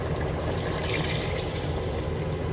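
Water poured into a soup pot holding boiled carrot and lamb bones for ciorbă, a steady close splashing and gurgling stream lasting a few seconds without speech.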